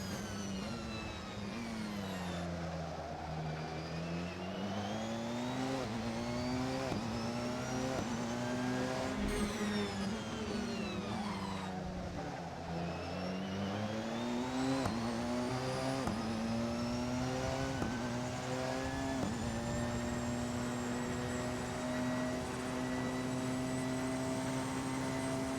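Several GT4 race car engines in Assetto Corsa at Daytona drone and whine continuously, pitch sliding up and down as they accelerate and shift, a steady synthetic game-like roar throughout.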